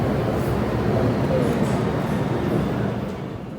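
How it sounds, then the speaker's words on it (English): Continuous low rumble of an M subway train moving nearby, steady and fairly loud, easing slightly toward the end. "And another M train."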